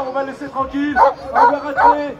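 Laika sled dogs at the start of a sled dog race in Megève, with a few short barks and yips rising behind someone speaking French close to the microphone.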